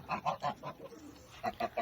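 A goose honks in a rapid series of nasal calls, four in a row, a pause, then three more, fairly faint.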